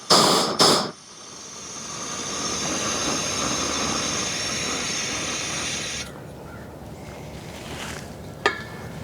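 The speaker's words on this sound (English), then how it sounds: "All right, let's burn a few weeds here." A Harbor Freight propane torch burning weeds in a garden or driveway: after a couple of loud bursts, a steady roaring hiss builds and holds for several seconds, then drops to a quieter hiss with a sharp click near the end.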